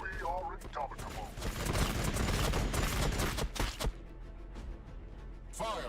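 Continuous close video-game gunfire rattles in dense rapid bursts for several seconds, then thins out into scattered shots as it fades.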